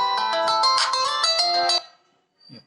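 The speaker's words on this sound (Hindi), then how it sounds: "फोन बीच बीच में, चूंकि ये वीडियो मोबाइल से बना रहा हूँ ना, तो कभी कभी कॉल आ जाते हैं" A mobile phone rings with an incoming call, a bright synthetic ringtone melody playing loud and near for nearly two seconds before cutting off, followed by a brief low murmur.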